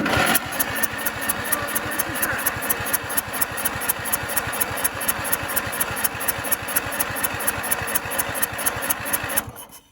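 A Deutz-Allis 1312H zero-turn mower engine runs close by with a fast, even chugging pulse that holds steady for several seconds, then cuts off abruptly at the end.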